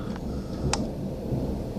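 Thunder from a lightning storm in the Catskills, New York, in June: a steady, loud low rumble across the whole stretch, broken by one short sharp crackle partway through, with no speech.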